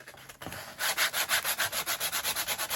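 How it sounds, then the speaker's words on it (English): Hand sanding with 220 grit sandpaper over a decoupaged surface makes close, rhythmic back-and-forth rasping strokes, about six per second, after a brief handling noise at the start. "So I sanded off the sharp stuff and then sanded down the ridges where the folds were."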